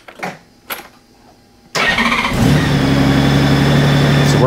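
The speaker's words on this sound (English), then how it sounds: "I'm gonna turn on the ignition just to see if it turns on." A Honda Goldwing motorcycle with its ignition switched on: a couple of faint clicks, then a loud engine-like rumble and whir kicks in and runs steadily at close range.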